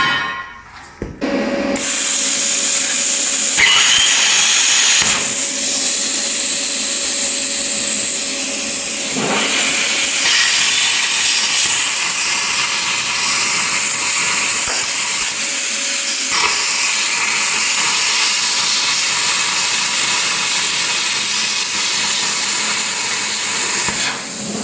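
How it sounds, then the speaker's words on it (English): A plasma cutter slices through metal on a Duramax rat rod build, giving a steady loud hissing roar that runs almost unbroken for about twenty-five seconds, with a few sharp crackles and shifts in tone along the way. "need to cut that out with a plasma cutter"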